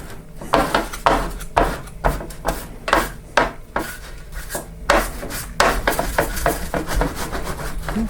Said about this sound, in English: we're going to grease the tray up